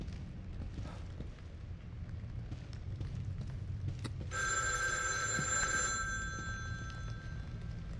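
A telephone rings in the horror video game The Evil Within 2, an electronic bell tone starting partway through and holding for about two seconds over a dark, low ambient rumble.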